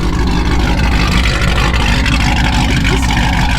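A 1,000-horsepower Dodge Challenger Hellcat engine under hard acceleration: a loud, dense, continuous roar that fills the whole clip with no letup, heard from close by.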